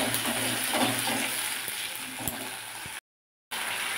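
Ground tomato paste hitting hot oil in a frying pan gives a steady sizzle with a few light clicks and stirring scrapes, then a brief half-second dropout before the frying hiss resumes.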